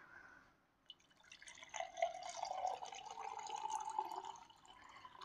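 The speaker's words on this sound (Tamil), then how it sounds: "இன்னும் கொஞ்சம் தண்ணி ஆட் பண்ணிக்கலாம்." Water is poured into a fish bowl for a children's DIY aquarium, making a faint, quiet trickle and splash that builds after a brief pause and continues steadily for several seconds.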